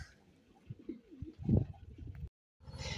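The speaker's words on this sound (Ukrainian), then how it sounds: "Це вже голуби позалазили, поки курей немає наїдається" Pigeons eating the chickens' feed, cooing softly nearby, a few low throaty coos with rustling, then a brief silence and some scuffling noise.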